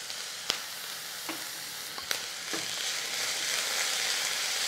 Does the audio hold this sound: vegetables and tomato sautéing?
yes